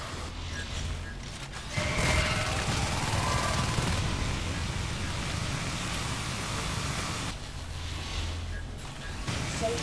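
Sustained rapid gunfire from exosuit guns in the Natural Selection 2 video game, a dense continuous burst of shots running most of the stretch with brief lulls near the start and end.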